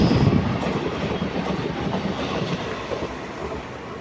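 A superfast express train thunders through Mayyanad railway station, a village stop in Kerala, with a loud, continuous rumble of wheels and carriages that eases off slightly as it passes, and no voices.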